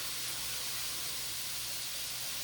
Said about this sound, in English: if you get sizzles, you know the pan is hot.